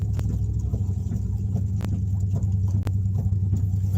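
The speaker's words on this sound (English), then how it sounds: "half the engine is misfiring, so that's really not good" A rough-running V8 engine misfiring on four of its eight cylinders idles with a low, uneven rumble and occasional sharp stumbles, loud and close.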